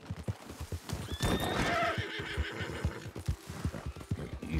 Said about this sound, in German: Das Pferd geht jetzt so ein bisschen schief hier.